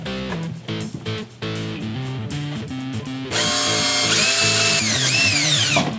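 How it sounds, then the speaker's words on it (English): A power drill whines in short bursts and pauses, then runs steadily with its pitch climbing, loud and close, drilling a pilot hole in an aquarium sump. "I'm gonna drill the pilot hole first"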